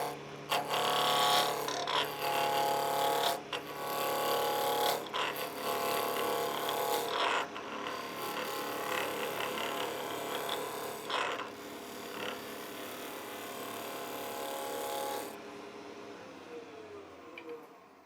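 A woodturning tool cutting a highly figured wooden box spinning on a lathe, a steady loud rasping, whooshing scrape with occasional brief breaks, continuing for several seconds before cutting off into quiet.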